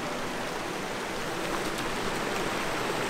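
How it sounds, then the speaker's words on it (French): Small waterfalls in a stream near the village of Saint-Jean-de-Buèges make a constant, dense rushing and splashing of water, close and even throughout, with no voices. "on a les petites cascades"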